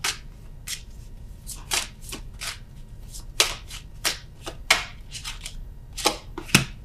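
Tarot cards are shuffled by hand up close in a series of short crisp riffles and slaps, about a dozen bursts spaced irregularly over quiet room tone, with no talking.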